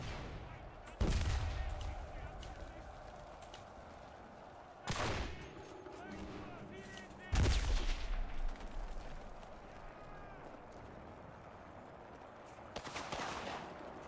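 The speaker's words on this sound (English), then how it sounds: "Yeah, he's up there firing AT weapons at us." Anti-tank weapon fire in the World War II shooter Enlisted, three heavy blasts spaced several seconds apart with lingering rumble and distant crackle between them.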